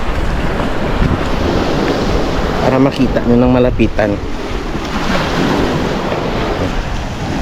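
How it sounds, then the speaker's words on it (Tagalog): Strong ocean waves breaking against rocks along a seawall, a loud continuous surging roar mixed with wind buffeting the microphone, while a person talks over it midway. "malakas yung ampas ng alon"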